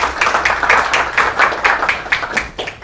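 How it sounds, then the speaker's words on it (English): Audience applause for a speaker at a talk, a dense steady patter of many hands clapping close and loud throughout, with a faint voice briefly under it. "Please, nice round of applause"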